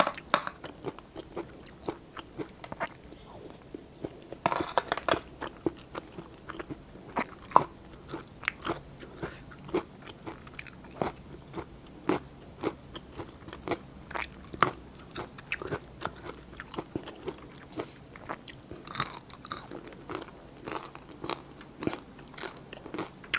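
Crunchy bites and steady chewing of wild Melientha fruit eaten with jaew pla ra dipping sauce, close and quiet, with irregular crisp crunches repeating throughout.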